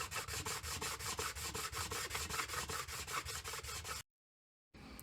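Rhythmic back-and-forth scraping as a block plane iron is flattened on sandpaper, a steady run of strokes, then a brief silence before the scraping resumes.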